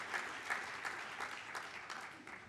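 Gala audience at a Boston charity dinner applauding donors, steady soft clapping from a large room throughout, fairly distant and even with no talk over it.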